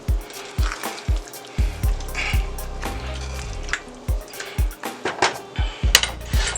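Spaghetti and meatballs being mixed with sauce in a pot, with repeated knocks and clinks of a utensil against the pot in an irregular rhythm, close and fairly quiet, with wet squishing between strokes.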